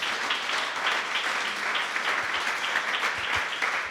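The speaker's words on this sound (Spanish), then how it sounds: "¿Le pueden dar un aplauso a Dios?" A church congregation claps together in sustained, even applause from a crowd for several seconds, dense and fairly close.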